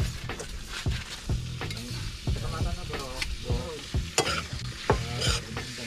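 Freshly caught eel and frog cooked as adobo, stirred and frying in a pan, with repeated scraping stirs over a steady sizzle and people talking nearby.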